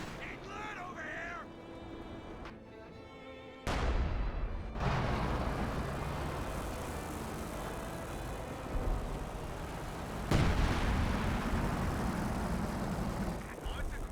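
Artillery barrage in the Company of Heroes 2 strategy game: two loud booming impacts strike a few seconds apart, with steady rumbling battle noise between them and a commentator talking over it.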